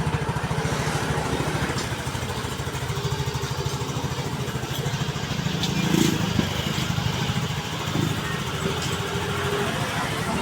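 A Yamaha Mio Soul 115 FI scooter engine, reported to have an ECU fault, idles steadily with a constant, even drone that swells slightly for a moment midway, running alone with no talk over it.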